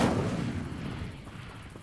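Spell-casting effects from the Hogwarts Legacy video game, a heavy booming blast at the start that rumbles and decays into a low roar over about two seconds, with no talking.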